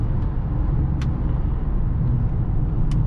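Chip-tuned BMW X5 E53 4.4i SUV with a 309 hp V8 and non-standard suspension, cruising through city streets; a steady engine and road rumble from inside the cabin with a couple of brief faint clicks.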